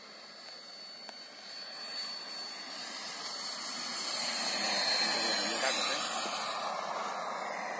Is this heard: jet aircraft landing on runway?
yes